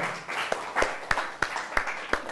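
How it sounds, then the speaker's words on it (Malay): A Form 4 chemistry class claps for a student, a small group's sparse, irregular claps, fairly close and brief. "beri tepukan kepada Amin lagi sekali"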